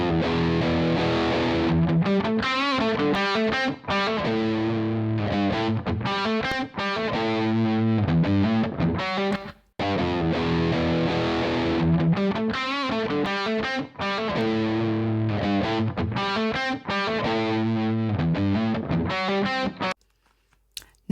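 Heavily compressed distorted rock electric guitar plays a steady riff of chords and sustained notes for about twenty seconds, dense and loud throughout with only brief gaps, with no voices.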